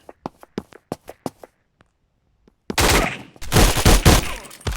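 Gunfire in the online shooter Polywar: a string of sharp single shots spaced apart, a short lull, then loud sustained bursts of automatic fire.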